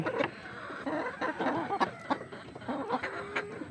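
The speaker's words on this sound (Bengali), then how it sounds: "দেশি মুরগি এই যে একেবারে দেশি মুরগি।" Native country hens near a nest of three eggs cluck in short, scattered low calls at close range, mixed with light rustling and handling noises.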